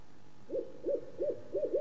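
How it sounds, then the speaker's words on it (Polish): An owl hoots four times in a steady, evenly spaced series, moderately close and clear against a quiet night background with no talking. "Sowa."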